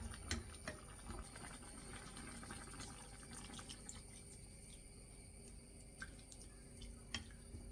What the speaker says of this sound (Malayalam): നമുക്കിതിലേക്ക് ഒന്നാം പാൽ ചേർക്കാം